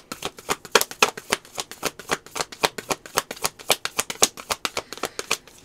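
Tarot cards being shuffled in a rapid, steady riffle of crisp papery flicks, close and fairly loud, with no voice over it.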